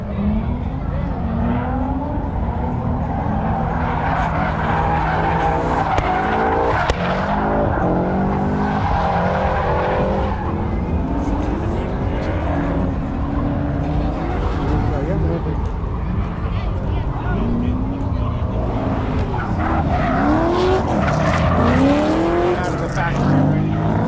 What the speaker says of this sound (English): they over here drifting and shit